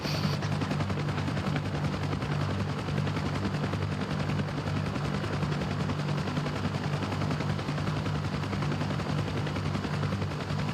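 Helicopter in the DCS flight simulator, loaded with troops on a pickup and dropoff run, gives a steady, loud low-frequency engine and rotor drone that holds unbroken for the whole stretch, with no talk over it.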